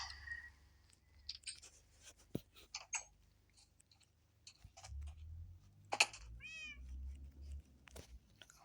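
A cat gives a short meow amid quiet indoor clicks and light handling noises, faint and close, with no talking.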